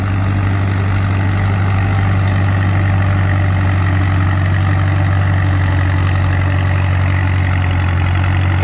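An antique tractor engine runs at a tractor pull in the 2500 to 3000 lb class, giving a constant heavy, loud low rumble with a strong steady drone and no change in pace.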